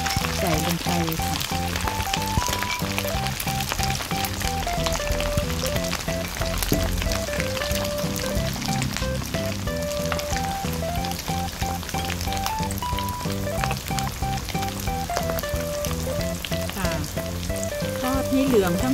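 Flattened minced pork patties fry in hot oil in a pan, a dense, continuous sizzle and crackle that holds steady throughout with background music playing over it.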